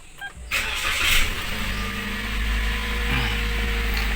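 A Toyota Rush with automatic transmission in park is started by push button, the engine cranking briefly, catching with a rising roar, then settling into a steady close idle.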